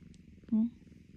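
A cat purrs with a low, rhythmic rumble in short pulses, close and soft, with a brief mew-like tone in the middle.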